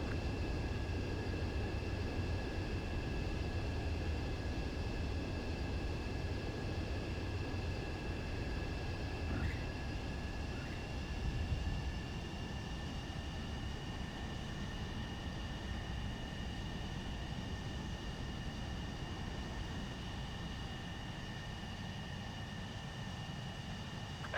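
Steady jet aircraft rumble and whine during a landing approach in Ace Combat 7, a continuous engine drone with sustained tones and no talking.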